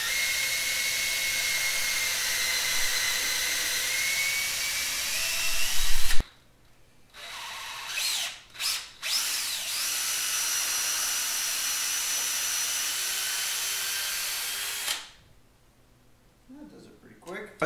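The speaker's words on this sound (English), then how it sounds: "I mounted the ball grinder on top of my little shaft here, and I'm just going to make another pass through the tubes." A ball grinder mounted on a drill shaft grinds through hard tubing for a competition-sized foosball coffee table, a loud steady high whine that stops abruptly, gives a few short bursts, then runs steadily again before cutting off.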